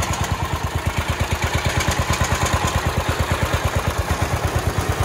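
A rebuilt 316 engine, run on oil after burning off two-stroke fuel, idles steadily and close by, with an even, rapid rhythmic putter and a mechanical clatter on top, and no voices over it.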